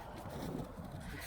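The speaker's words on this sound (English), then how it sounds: "It's a little windy." Wind blowing outdoors on a freezing day of about 26°F, a steady low rumbling buffet of gusts against the microphone that holds at a constant level throughout.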